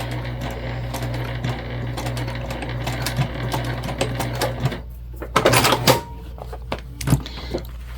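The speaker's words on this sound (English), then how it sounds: "we stitched all the way around" A sewing machine stitches around the edge of a crossbody bag, running in a steady whirring hum before pausing and giving a few short, louder bursts of stitching near the end.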